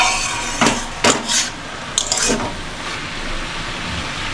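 A lid lifted off a pan of hilsa-head and ash gourd curry, then a few clattering knocks and scrapes of a spoon stirring, set against a steady background hiss.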